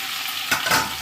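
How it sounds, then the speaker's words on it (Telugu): Cut okra fries in hot oil in a pan, a dense continuous sizzle that swells briefly, heard up close with no voices. "వేపుకుందాం ఆయిల్లో"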